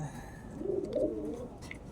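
Racing pigeon kept for derby competition coos softly and close by in a brief low throaty burst, with faint background noise.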